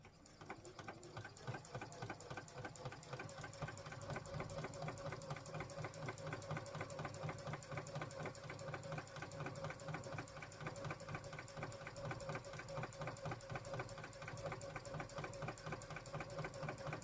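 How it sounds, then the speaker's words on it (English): A sewing machine stitches vinyl with a fast, steady, even mechanical rhythm that runs without a break, close and alone. "I'm just going to sew it in at about 1/8 of an inch."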